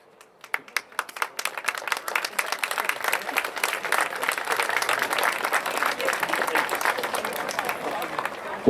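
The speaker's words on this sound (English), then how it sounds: "let's have a nice round of applause for the Senior Eagles" Crowd at a football game's pre-game senior night ceremony gives sustained applause for the senior players, beginning with a few scattered claps and swelling into dense, steady clapping from many spectators.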